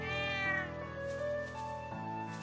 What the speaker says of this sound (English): That's the cat that little girl was with.